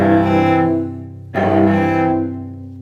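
A cello bows a rich chord, the lower notes sounding first and then a fresh bow stroke across the upper strings, sustained and resonant.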